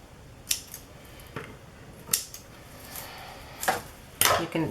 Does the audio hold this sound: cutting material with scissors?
yes